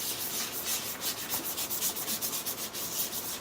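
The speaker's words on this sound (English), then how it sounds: "sanding it down with some 320" 320-grit sandpaper rubbing over a 3D-printed part, a steady close scratching with quick rhythmic back-and-forth strokes throughout.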